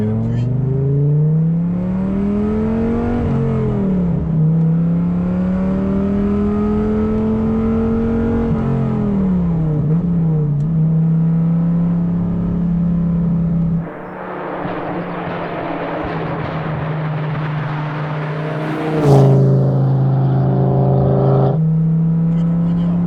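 A Dodge Viper GTS engine revs and accelerates from inside the car, a deep, loud, close drone rising and falling through gear changes, with a harsher burst of rasping exhaust midway and brief talk.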